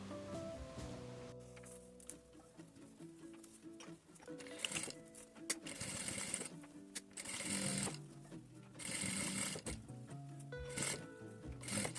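A sewing machine topstitches a fabric strawberry pouch in fast, steady bursts of rapid whirring, pausing briefly between runs, close and clear with faint clicks.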